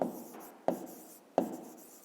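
Pen or marker strokes writing out a math answer for a 5th-grade exercise, three sharp scratchy onsets each trailing into a soft rubbing drag, close and quiet with no talking.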